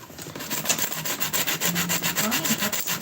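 A sanding block rubs back and forth across wood in quick, steady strokes, a close, loud rasping rhythm that repeats many times without pause.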